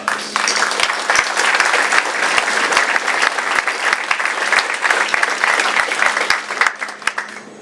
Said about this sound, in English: Please rise for a round of applause.